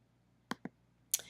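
A computer mouse clicks sharply and close at hand, a quick pair of clicks followed by a third a moment later in an otherwise quiet room.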